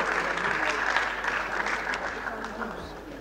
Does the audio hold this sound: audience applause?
yes